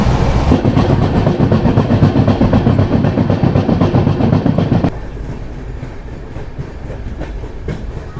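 The 12327 Upasana Express rolls through Khana Junction with a loud, steady rumble and rhythmic wheel clatter, dropping abruptly to a quieter, muffled running noise partway through.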